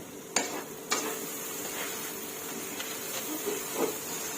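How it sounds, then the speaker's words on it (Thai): Minced pork and onions are stir-fried in a pan with a steady low hiss, as a utensil gives occasional sharp taps and soft scraping against the metal. "ผัดให้เข้ากัน ผัดให้หอมใหญ่สุกกว่านี้สักนิดนึงค่ะ"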